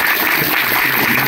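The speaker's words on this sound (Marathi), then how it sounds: "सर्वांनी जोरदार टाळ्या वाजवा" Brief, dense applause from a village audience at a Diwali aid-kit distribution ceremony, steady and fairly loud throughout the short burst.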